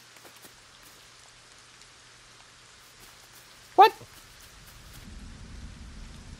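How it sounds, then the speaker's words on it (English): Rain and thunder in the LEGO Fortnite video game: a soft patter of rain, then a low thunder rumble that swells near the end, with a brief spoken word midway. "Why did it have to rain on the first day? How long does it rain for? Stop the rain!"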